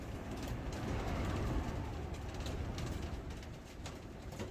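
Pigeons in a loft give a continuous, fairly loud wash of soft cooing and rustling at close range, with no talk over it.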